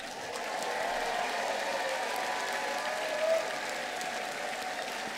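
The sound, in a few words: graduation audience cheering and applauding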